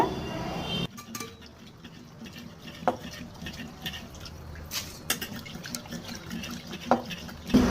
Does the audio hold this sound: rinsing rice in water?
yes